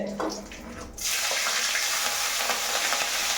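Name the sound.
chillies frying in a pan for avalakki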